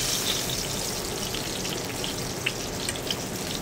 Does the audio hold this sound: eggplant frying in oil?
yes